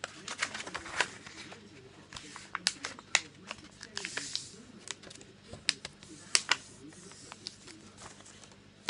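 Paper is folded by hand into an origami dinosaur, with rapid crisp crinkles, taps and creasing rustles close by, and someone speaking softly now and then.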